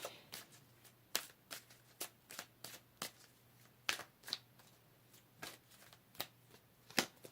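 Tarot cards are shuffled in quiet, sharp riffling bursts, a dozen or so quick irregular snaps close by, with soft pauses between them and no voices.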